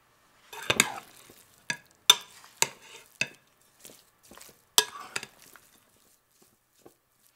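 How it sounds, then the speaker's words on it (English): Diced lamb being mixed with spices for a Moroccan tagine, heard as a series of separate wet stirring and scraping strokes in a bowl, close and fairly loud, with quiet gaps between them. "Now add the spices to the diced lamb and mix together."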